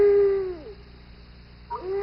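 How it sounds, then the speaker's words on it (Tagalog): Cartoon screech owl call: a sustained, steady tonal hoot that bends downward and fades, a short pause, then the same hoot rising back in and holding, close and fairly loud. "Yun ang screech owl."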